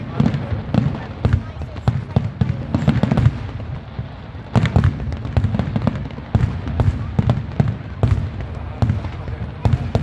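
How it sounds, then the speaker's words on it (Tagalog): A fireworks display at a pyromusical competition at the Mall of Asia seaside bursts in rapid, irregular succession, sharp cracks and booms layered over a continuous crackle, with people talking excitedly underneath. "Grabe ang gastos na sa fireworks,"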